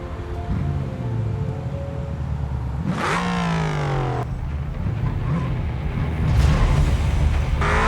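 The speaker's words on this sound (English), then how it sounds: "hopping into his Mercedes AMG and driving very aggressively" A Mercedes AMG driven aggressively in the video game BeamNG Drive: a steady engine drone with a sharp revving surge around the middle and another loud swell near the end, with no talk.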